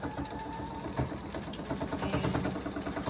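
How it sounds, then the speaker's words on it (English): A sewing machine running steadily as it stitches closed the edge of a fabric pillowcase dress, a close, even mechanical whir with rapid needle ticking and no voices. "And then you're just going to sew it up, close up the edge."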